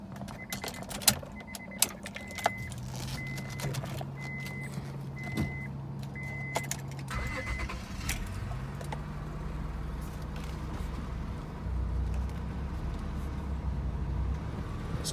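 A 2003 Acura TL 3.2 with about 270,000 miles starts up: a few sharp clicks and an electronic chime pattern, then the engine catches and settles into a steady, quiet idle close by.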